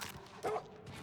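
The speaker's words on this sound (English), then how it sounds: "That's a dog." A single short dog bark in the video game Oblivion, brief and moderately close, set against quiet game background sound.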